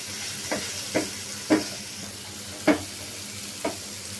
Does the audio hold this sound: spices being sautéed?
yes